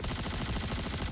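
A fast, steady stream of gunshots fires at an Argo Moth ship parked in a hangar in Star Citizen, sounding as one continuous rattling burst with no voices.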